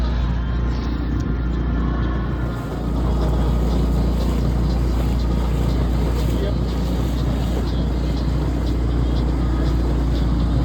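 A motorboat cruises along the Croatian coast, its engine a steady, continuous drone with rushing wind and water noise throughout, loud and close, with no clear breaks.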